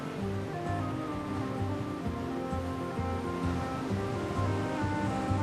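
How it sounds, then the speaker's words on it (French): Mediterranean sea waves wash against a cliff-lined Moroccan coast in a steady, continuous surf roar with a low rumbling undertone, fairly close and unbroken throughout. "Cette Méditerranée dont les vagues dessinent et sculptent la côte."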